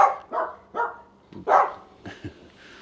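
Dogs barking in a garden greenhouse setting: a series of six or seven short, close, loud barks in an uneven rhythm, ending with a softer yip.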